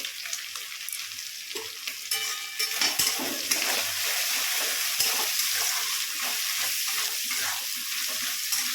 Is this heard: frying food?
yes